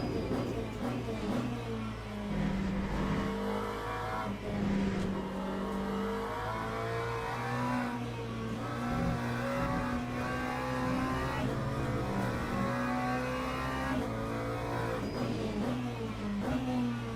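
A race car engine in the Le Mans Ultimate sim revs steadily and loudly, its pitch climbing and falling with throttle and gear changes and held near and continuous for the whole stretch.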